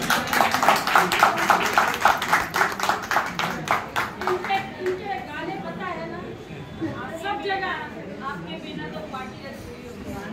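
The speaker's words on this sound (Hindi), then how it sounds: "जरा जोरदार तालियां बजाइए." An audience at a retirement function in Dombivli claps loudly in fast rhythmic bursts, which fade into chatter and voices as the applause tapers off.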